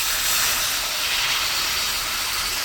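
Water is poured into a hot pan of sizzling village-style curry with shrimp, beans, potato, cauliflower and tomato, giving a loud, steady, hissing sizzle that fills the whole moment close up.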